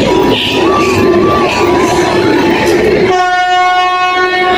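A train passes through a railway station with a loud, continuous rolling rumble, then a long blaring horn sounds close by near the end.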